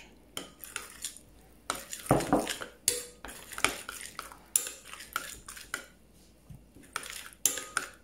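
A spoon stirs an oil marinade of olive and sunflower oil with coriander and parsley for a salmon tagine, giving irregular, close metallic clinks and scrapes against the bowl.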